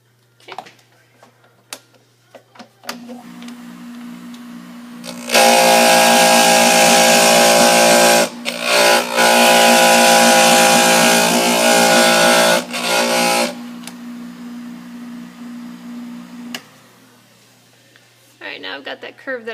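A power grinder runs loud and steady for about eight seconds, grinding down a piece with a brief dip midway, framed by quieter handling and a low hum before and after.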